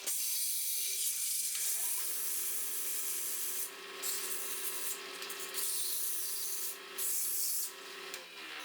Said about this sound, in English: The last polishing.